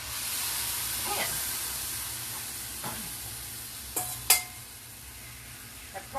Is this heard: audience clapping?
no